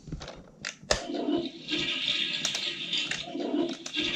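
Water squirts and gurgles from a Toilet Trouble toy game, a steady hissing spray with a few sharp clicks and knocks from the plastic toy, heard close up and without talk.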